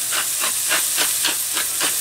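Ground meat for a meatloaf, seasoned with pepper, sizzles in a hot pan, making a loud, steady frying hiss with rhythmic surges and no talking.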